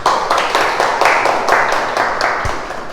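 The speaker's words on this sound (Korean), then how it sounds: "이렇게 박수를 쳐주시는 분들이 꼭 성공을 하십니다." Audience applause in a seminar hall, a steady dense clapping from many hands that fills the whole moment without any voice over it.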